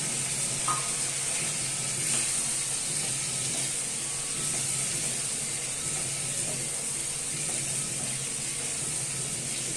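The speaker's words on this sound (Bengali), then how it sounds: "একটু ভালো মতন কষাতে হবে।" Boiled chickpeas and banana flower are sautéed in a pan, giving a steady sizzle with soft scraping and stirring clicks, fairly quiet and continuous.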